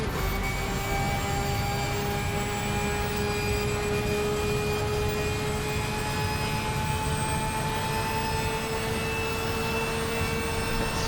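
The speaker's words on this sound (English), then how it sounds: "you can hear the engine just groaning from how much RPM is going through that car" A Porsche race car in a sim-racing endurance event at Bathurst drones at high RPM, a steady, strained engine whine holding throughout at moderate level.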